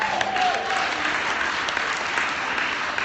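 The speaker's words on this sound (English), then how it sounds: "Round of applause for moms and dads" A crowd applauds steadily, a dense wash of clapping that holds at full strength throughout.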